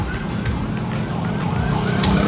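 An ambulance siren wails in rising and falling sweeps through a street near a roadside eatery in Cebu, over steady traffic rumble and a broad background hiss.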